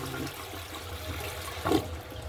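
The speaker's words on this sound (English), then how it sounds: "Let me just flush" A toilet flushes in a bathroom, a brief rush of water surging over a steady background hiss, fairly close and with no voices.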